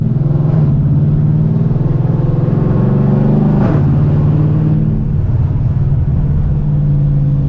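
A 700 hp nitrous Dodge Charger 392 Scat Pack engine roars loud and close with a deep, rough low-end drone. The pitch swells and dips across several revs.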